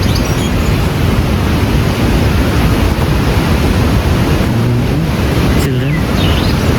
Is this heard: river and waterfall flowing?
yes